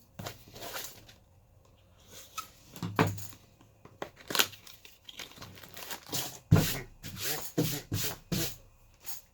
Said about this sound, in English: Opening it up with, of course, my ridge knife.